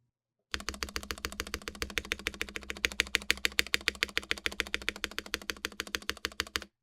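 A Melgeek Mojo68 gasket-mount keyboard with lubed stabilizers is typed on in a fast, even stream of crisp, close key clacks lasting several seconds, with no talking.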